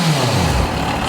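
A 2007 Yamaha FZ6 motorcycle engine gives one quick, loud rev close by, swelling and then settling back toward idle with a steady mechanical roar.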